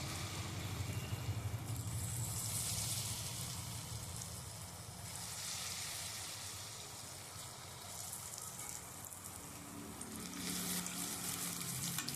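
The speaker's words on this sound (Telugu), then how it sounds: "ఇట్లా మంచిగా డీప్ ఫ్రై చేసుకొని పొంగడాలు మంచిగా గోలినాయి బ్రౌన్ కలర్ రాగానే తీయాలి" Punugulu batter deep frying in hot oil, a continuous bubbling sizzle with surging hiss that swells and eases over the length, with no talking.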